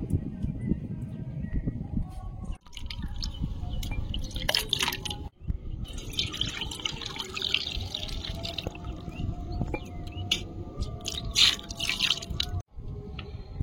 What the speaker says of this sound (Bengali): সর্ষে বাটাটা জলে গুলে ছেঁকে নেব।